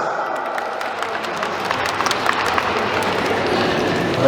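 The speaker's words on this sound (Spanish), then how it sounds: "Que vengan los aplausos, pongan las palmas." Steady applause and clapping from an audience at a 50th birthday celebration in Paraguay, a dense continuous patter that swells slightly toward the end, with faint voices mixed in.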